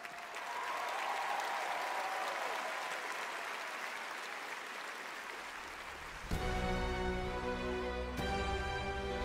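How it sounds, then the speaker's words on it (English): A large audience applauds the orchestra and its conductor at the Game of the Year Awards 2022, a loud, steady wash of many clapping hands for about six seconds before sustained orchestral music takes over. "a big applause to the beautiful orchestra and conducted by Lorne Bass."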